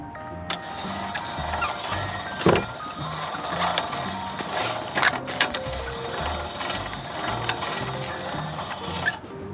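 Two-speed winch and brake mechanism on a Woodmizer LT15 sawmill, heard as a continuous close mechanical whir with ratcheting clicks and a few sharper clunks.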